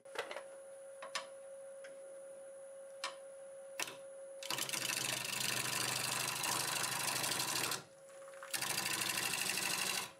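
A wood lathe turns a hard, dry, well-balanced black locust blank at about 760 rpm, with a steady broadband whir and hiss loud and close for several seconds, briefly dropping out, after sparse ticks and a constant tone.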